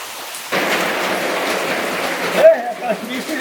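Heavy morning rain pouring steadily onto surfaces near a riverside fishing spot, a dense close hiss that starts abruptly and runs on, with a voice speaking over it near the end.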